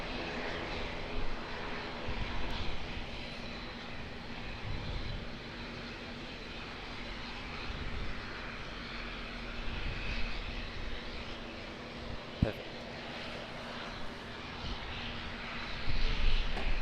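A plane on short final approach at Auckland Airport drones steadily and faintly from a distance for the whole stretch, with a slight swell near the end and no voices.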